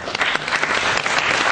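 A seminar audience applauds steadily, dense overlapping hand claps filling the room at close, loud level throughout.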